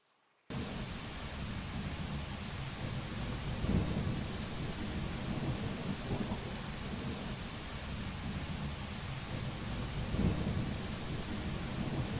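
Thunder sound effect for an open world game: a steady roar of rain and rumbling storm noise with a couple of heavier thunder swells, continuous and fairly loud, no voices.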